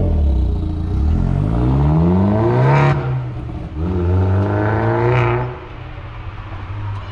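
An Opel Astra GTC 230 PS in sport mode revs loudly through two rising, accelerating sweeps, each ending in an abrupt drop, with a synthetic sound system shaping the engine note, heard close and clear.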